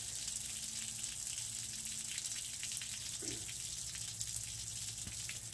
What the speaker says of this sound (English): this is spewing out a good amount of water here